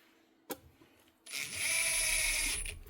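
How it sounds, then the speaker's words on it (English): A Euroboor magnetic drill motor starts after a sharp click and runs steadily with a loud, even high-pitched whine, close by and alone with no talk. "One Euroboor magnetic drill."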